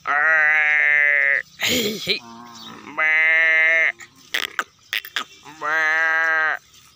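A buffalo calf gives three long, loud bleating calls close by, separated by short bursts of rustling and shuffling noise, as buffaloes are untied.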